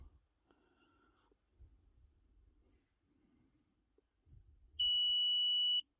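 A single sustained electronic beep from a car diagnostic scan tool setup sounds clearly for about a second near the end, after quiet stretches of faint low rumbling.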